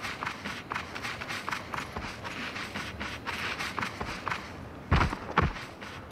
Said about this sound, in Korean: 그 내 발소리 이게 왜 이렇게 발이 사부작거리냐